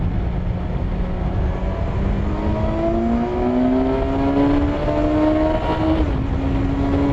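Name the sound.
2020 Kawasaki Versys 1000 motorcycle engine revving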